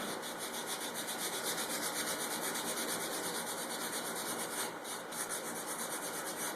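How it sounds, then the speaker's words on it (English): Sandpaper is rubbed by hand along the edges of a scroll-sawn prehistoric wooden toy, making a steady, close, gritty scratching that continues without a break. "you want to sand pretty much perpendicular to the way that you've cut"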